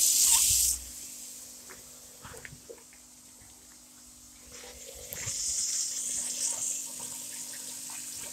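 Tap water runs into a plugged kitchen sink while vegetables are being washed, with a short burst of spray at the start and a steadier rush returning partway through, fairly close.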